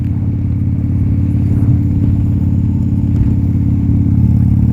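A 1987 Harley-Davidson FXRC Special Edition motorcycle idles steadily close by, its engine giving a loud, low, even rumble with no talk over it.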